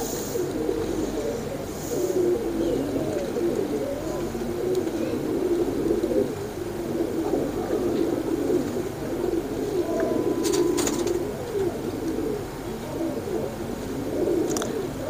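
Royal teddy pigeons cooing, a continuous low throaty burbling of several birds close by, with rolling repeated coos overlapping and a few brief sharper sounds in between.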